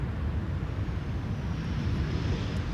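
Royal Air Maroc airliner in oneworld livery arriving on the Polderbaan at Schiphol, a steady, distant broadband jet roar with low rumble, unbroken throughout, no talk.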